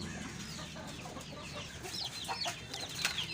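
Aseel chickens, a Pakistani breed pair of rooster and hen, cluck and call in a rapid, overlapping run of sharp chirps close by, with a scratchy farmyard bustle underneath.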